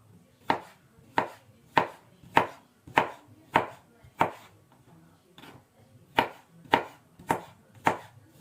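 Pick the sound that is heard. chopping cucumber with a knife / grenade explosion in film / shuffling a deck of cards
chopping cucumber with a knife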